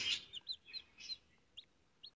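Chickens at home, a hen with newly hatched chicks, give a few faint, short, high-pitched clucks and peeps spaced across a couple of seconds, heard quietly from a distance.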